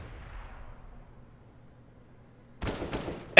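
Counter-Strike gunfire: a quiet low rumble, then a short loud burst of several rapid shots near the end, followed by a sharp final crack.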